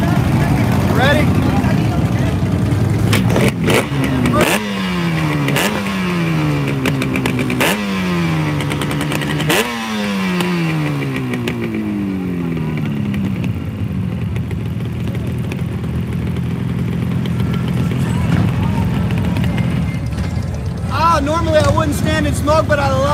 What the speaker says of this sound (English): Let's see if we can hear this classic RD come to life.